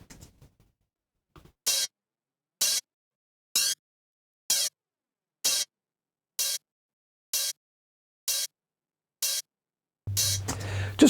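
An offbeat hi-hat in a house music track, dry with no reverb but run through a flanger, plays as about nine crisp evenly spaced hits in a steady rhythm, bright and isolated, before a fuller mix enters at the end.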